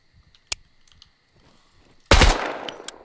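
Gunfire in the survival game Scum: a single sharp shot, then after a quiet stretch a loud burst of rapid automatic fire that rings out and decays over the final second, with faint clicks between.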